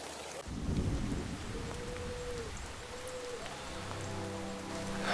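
A film scene of steady rain pattering on surfaces alongside low rumbling thunder, heard at a soft level. Faint short tonal calls rise briefly over the downpour, and no one speaks.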